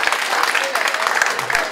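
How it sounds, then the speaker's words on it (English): Applause from a comedy club audience at The Backyard Comedy Club, a dense steady patter of clapping that fills the room for a couple of seconds, with faint crowd murmur mixed in. "Give them a round of applause"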